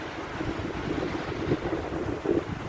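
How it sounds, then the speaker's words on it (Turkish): Winter sea waves washing onto the shore at Büyükçekmece beach, a steady, close rushing wash mixed with wind buffeting the microphone. "Suyun sesi, insanın kulağını doldurması, dalgalar gerçekten çok hoş."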